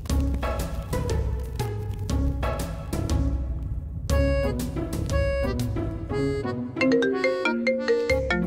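A phone rings with a bright melodic ringtone, repeated electronic tones in a quick tune that loops and shifts pattern partway through, loud and close with no talking over it.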